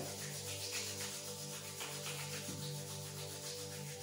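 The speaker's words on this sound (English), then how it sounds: "Rub your hands into each other." Palms rubbing briskly against each other during a seated yoga session, a steady dry swishing friction, close and quiet over a soft background hum, no voice present.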